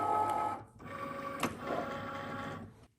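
A Cricut cutting machine draws in a cutting mat with a steady whirring motor drone that runs nearly three seconds and stops abruptly, with a brief click partway through.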